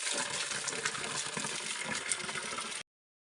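Water from a village spring in the Himalayan hills streams steadily in a close, loud, continuous gush, then stops abruptly.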